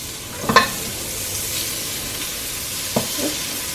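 Jerk seasoning sautéing in butter in a pot, with a couple of brief stirring scrapes over a soft, steady sizzle and no talk.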